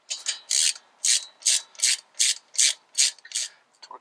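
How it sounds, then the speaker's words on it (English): Ratchet clicking as front brake caliper bolts are tightened on a 2005 Ford F250, with about nine quick close bursts of pawl clicks in a steady rhythm and no talk. "We'll go ahead and tighten down these bolts here."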